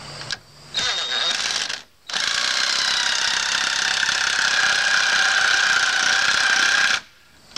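Chicago Electric 1/4 in. cordless impact driver sinking 2-inch drywall screws into wood, two loud sustained whirring, hammering bursts, a short one then a long five-second run, separated by pauses.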